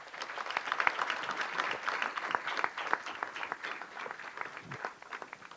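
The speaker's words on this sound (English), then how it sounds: "How about a big round of applause?" An audience at a 2011 State of the City event in Independence gives volunteers a round of applause: moderately loud, sustained clapping with distinct individual claps, slowly thinning out toward the end.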